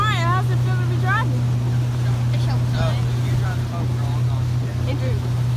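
A motorboat engine drones steadily and loudly as the boat runs across the water, a constant hum with wind rushing over the microphone while people talk and shout over it.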